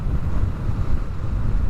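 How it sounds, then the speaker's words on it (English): Gusty wind buffets the microphone on a Harley-Davidson Street 500 ride, producing a loud, rumbling low roar that churns continuously without any voices. "A little windy right now."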